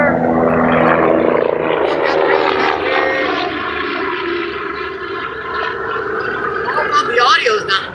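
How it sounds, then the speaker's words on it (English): A helicopter flies overhead near a fishing spot, its steady, loud rotor and engine drone filling the whole stretch with little change in level, while voices are mixed in. "helicopter!"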